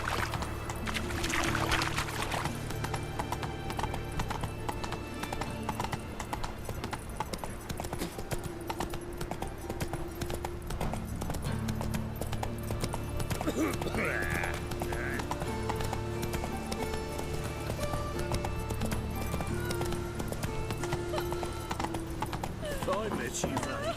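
Roach the horse galloping in The Witcher 3, a steady run of hoof clip-clops under continuous game music and ambience, with talking over parts of it.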